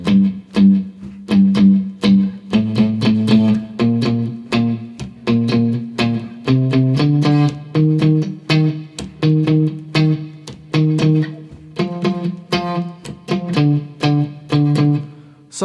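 Electric guitar plays the intro with palm-muted, effected and slightly distorted tone, a steady stream of short rhythmic picked notes and chords, loud and close, with no talking.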